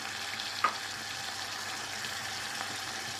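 Garlic and cumin frying in oil in a pan, a steady, moderately quiet sizzle with fine crackling throughout and one brief sharper pop near the start.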